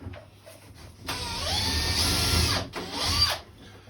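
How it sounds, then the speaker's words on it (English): A power drill whirs into wood in two bursts, a short spin-up then a longer, loud grinding run, followed by another brief burst. "then I just drill it like that"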